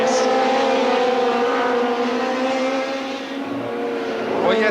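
A racing car engine at Silverstone during the 1982 International Trophy, a loud sustained high-revving drone that holds steady, dips briefly and rises again near the end as the car pulls into a slipstream.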